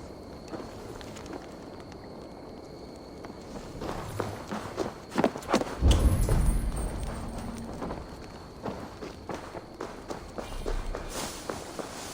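Horse hooves in Assassin's Creed Valhalla clatter in an irregular rhythm over a low ambient rumble, with a heavier thud partway through.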